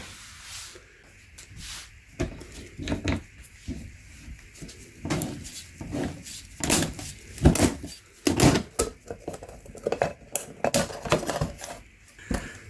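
A used Fram Ultra XG16 oil filter from a 1995 Jeep is cut open by hand, giving a series of sharp metallic clicks, cracks and scraping snips, close and loud, in irregular bursts with no talk.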